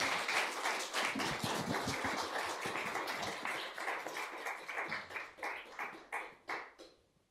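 An audience at an academic talk on sacred space acoustics applauds after a presentation, a brisk, full patter of clapping that thins into a few scattered, separate claps before fading out.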